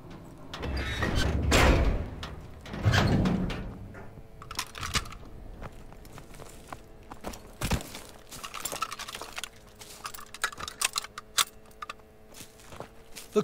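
A door opened in a Call of Duty WWII mission, heard as a few heavy thumps and a scraping slide amid footsteps, loud early then settling into quieter clatter and movement.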